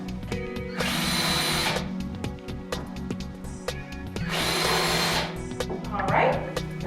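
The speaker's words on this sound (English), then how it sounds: "Now, we want to drill pilot holes." A power drill bores pilot holes for the screws of swivel plate furniture casters, two loud whirring bursts of about a second each, close up, with a short high squeal near the end.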